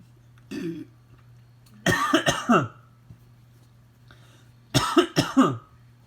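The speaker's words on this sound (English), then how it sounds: "sorry about the coughing there" A person coughing close to the microphone: a short single cough, then two harsh bursts of several rapid coughs separated by quiet, over a low steady hum.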